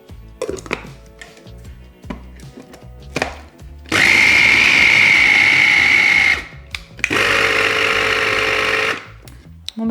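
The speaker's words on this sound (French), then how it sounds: "c'est bien mouliné, c'est bien mixé" Kitchen blender whirring through orange bavarois ingredients with melted butter, two loud sustained runs of several seconds each separated by a pause, preceded by scattered clatter and knocks.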